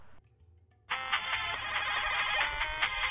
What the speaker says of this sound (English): The ringtone, probably. Someone's calling.